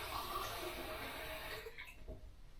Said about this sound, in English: So just fill that with some cold water.